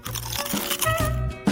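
Crisp, juicy food being crunched while eating during a cooking challenge, with several short close bites and chews in quick succession, loud and alone without talk.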